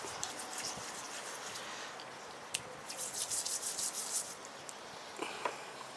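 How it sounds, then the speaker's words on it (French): A 20 centimes coin from 1960 being lightly rubbed to clean it, a soft, steady close scratchy rubbing with a few faint taps, continuous and fairly quiet. "Je continue avec les 20 centimes que vous avez vu dans la vidéo. Donc je frotte légèrement."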